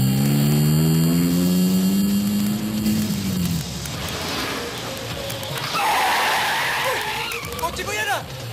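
Stolen car speeding away in a 1986 action film, engine revving hard before tires skid and squeal loudly, with shouting voices and other noise over the getaway.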